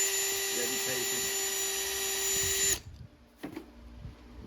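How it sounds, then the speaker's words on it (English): A small drill boring out the center wheel post of a Hot Wheels die-cast car, a steady high-pitched motor whine for nearly three seconds that cuts off, followed by faint handling clicks. "Make sure I'm drilling straight the right direction."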